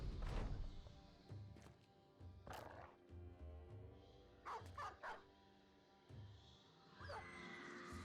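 War dogs barking in the video game Battle Brothers, several sharp barks and snarls over a steady game soundscape, moderately close and without speech.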